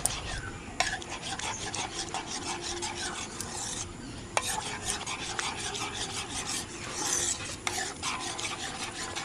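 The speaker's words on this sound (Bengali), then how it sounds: "এবার এই সবকটা শুকনো মশলাগুলো ভালো করে মিশিয়ে নেব" Dry ground spices and chili flakes being mixed together for a raw mango fruit-leather recipe, a continuous close rubbing, rasping scrape with occasional sharp clicks of a spoon against the bowl.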